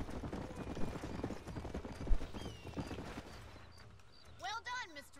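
Horse hooves clip-clop on a ranch in the video game Red Dead Redemption, a close run of quick rhythmic knocks with a whinny near the end, while people talk over it.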